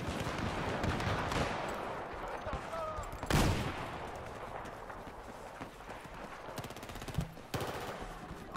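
Battlefield 4 gunfire rattles through a multiplayer match in bursts and single cracks, fairly distant and faint, with sharper nearby shots standing out and someone talking over it.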